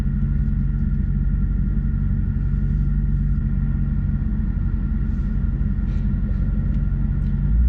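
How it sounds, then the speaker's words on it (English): Deep, steady exhaust drone from a Maserati's naturally aspirated V8 while driving, a loud, even low rumble heard from inside the car with faint ticks and bumps over it. "hearing that beautiful V8 sound."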